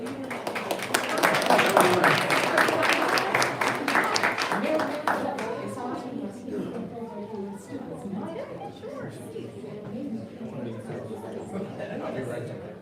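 Audience applause at a public policy briefing on media and telecommunications, loud and dense clapping in the first several seconds, then thinning into scattered claps under crowd chatter and talk.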